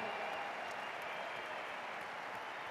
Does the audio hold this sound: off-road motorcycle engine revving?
no